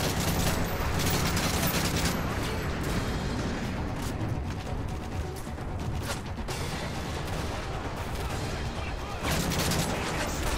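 Dense, continuous gunfire from Modern Warfare 3 during a battle in Paris, loud throughout with overlapping bursts and booms and no clear pauses.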